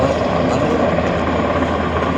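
An NH90 military helicopter passes at very low altitude during a special forces military exercise, its rotor and engine giving a loud, steady roar that fills the whole stretch.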